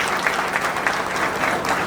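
Men in a hall at an awards and career guidance event applaud steadily, a dense, continuous wash of clapping from a sizeable crowd that fills the whole moment without letting up.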